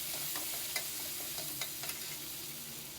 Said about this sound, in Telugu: అలాగే కరివేపాకు కూడా వేసేసుకుని ఒకసారి పోపుని బాగా వేయించుకుందాము.